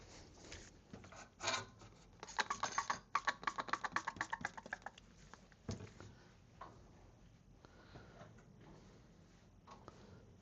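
Typing on a computer keyboard during an Xbox Series X repair, quick bursts of close, quiet key clicks with pauses between runs.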